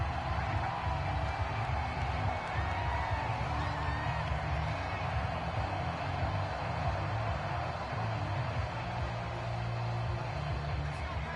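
Football stadium crowd at an Indianapolis game, a steady, dense roar of cheering and murmur held at an even level throughout, with faint commentary voices underneath.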